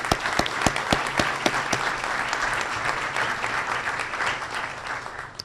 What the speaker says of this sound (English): So let's give the Manatee Chamber of Commerce a big round of applause.